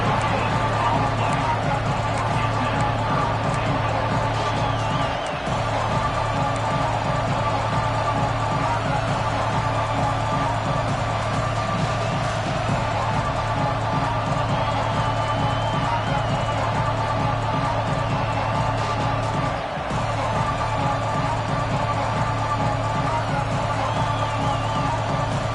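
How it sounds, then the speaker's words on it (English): Football stadium crowd at a game, a dense steady roar of many voices filling the whole stretch at constant loudness, with a commentator talking over it. "The noise. This crowd is trying to inspire this defense to make a big red zone stop."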